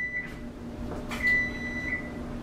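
A kitchen timer beeps while grits are cooking: a few sustained, high electronic tones sound close by and alone, with no talking.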